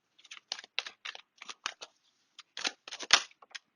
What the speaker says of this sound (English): I'm going to stop shuffling because I just hurt my thumb doing that.